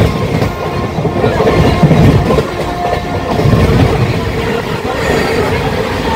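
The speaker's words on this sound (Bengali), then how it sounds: "কাঁচরাপাড়া স্টেশনের 1 নম্বর প্ল্যাটফর্ম দিয়ে থ্রু বেরোচ্ছে 13115 শিয়ালদা জলপাইগুড়ি রোড হামসফর এক্সপ্রেস" The Sealdah–Jalpaiguri Road Humsafar Express 13115 roars through platform 1 of Kanchrapara station without stopping: a loud, close, sustained rush with rhythmic clickety-clack of wheels over rail joints.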